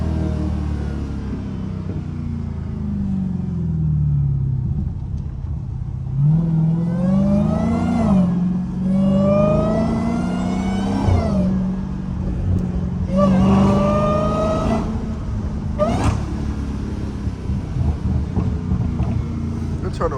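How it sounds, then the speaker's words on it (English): A straight-piped Dodge Hellcat idles with a deep, rough burble, then gives several short blips of the throttle that rise in pitch and fall back, with crackling pops around each rev and someone talking over it. "If you tap the gas a little bit, play with it. Sometimes it'll pop at different RPMs."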